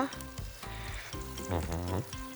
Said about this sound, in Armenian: Համլետ, երբ դու սկսում ես տապակման process-ը